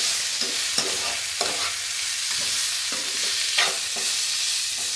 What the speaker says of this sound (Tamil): நம்ம கருவேப்பிலெல்லாம் போட்டு வதக்கும் போது